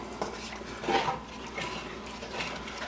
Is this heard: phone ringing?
no